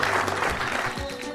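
Brief applause from an audience at a health awareness quiz event in Bihar, a short wash of clapping that sounds blended and somewhat muffled.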